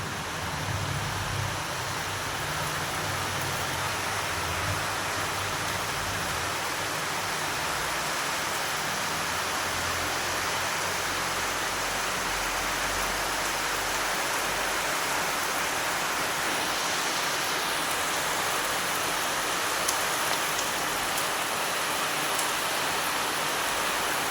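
Rain falls steadily on a rainy day, forming a dense, even hiss that carries on unbroken and fairly close, with no talking.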